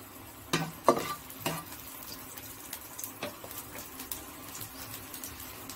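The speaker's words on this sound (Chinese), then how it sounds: "爆香葱頭啊" Shallots frying in hot oil in a wok, a few sharp clattering stirs at the start, then a quieter continuous sizzle with light scraping, no talking.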